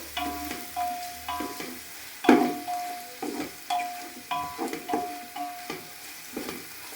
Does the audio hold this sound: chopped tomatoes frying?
yes